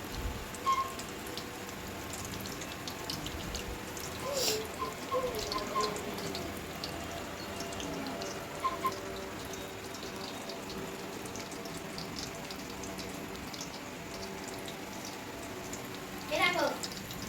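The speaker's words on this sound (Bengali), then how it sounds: "এইভাবে আমি একে একে সমস্ত ললিপপগুলোকে ভেজে নেব" Chicken lollipops deep fry in hot oil with a steady crackling sizzle, punctuated by a few louder spatters, while a voice talks over it.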